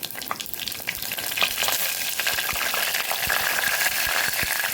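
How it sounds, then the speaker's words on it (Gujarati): Curry leaves and fenugreek seeds crackle and sizzle in hot oil for tempering, a dense continuous frying hiss with scattered sharp pops and stirring, close and without talk. "અહીંયા મીઠા લીમડાના પાન પણ ઉમેરી દઈશું"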